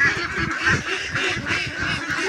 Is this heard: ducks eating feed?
yes